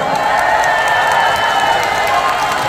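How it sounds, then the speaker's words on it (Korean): Audience at a trot concert giving the judges a big round of applause, loud dense clapping mixed with cheers that holds steady and close throughout. "우리 심사위 여러분께 큰 박수 보내드릴게요"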